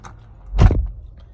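A 2019 Nissan Sentra SV door opens with a single short, close thunk and latch click, alone in a quiet cabin.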